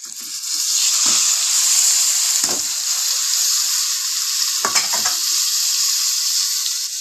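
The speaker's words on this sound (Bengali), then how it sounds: "এবারে এই সেদ্ধ করা পালং শাকগুলোকে দিয়ে দেবো" Boiled spinach goes into a hot pan with ginger and tamarind for a sweet-sour spinach chutney, giving a loud, steady sizzle with a few scraping stirs breaking through.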